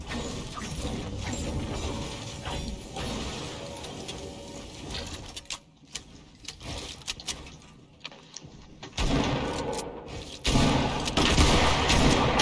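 Automatic gunfire in the video game Fortnite, in Creative mode: rapid bursts of shots that come and go in clusters and stop briefly before starting again, loud and without voices.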